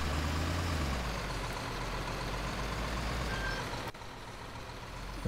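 A construction truck in Construction Simulator 2015 idles with a heavy, steady engine drone while backing up, with faint reversing beeps above it and a brief drop in sound partway through.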